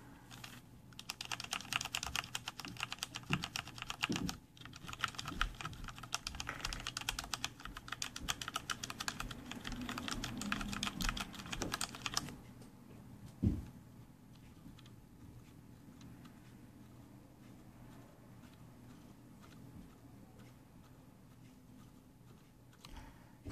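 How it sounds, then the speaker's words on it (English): Typing on a Corsair K65 RGB keyboard: a dense, steady run of close key clacks for about twelve seconds, then quieter, softer scattered keystrokes with one sharp thump near the middle. "And here's a typing sound, of course."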